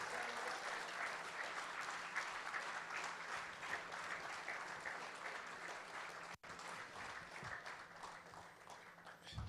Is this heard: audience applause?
yes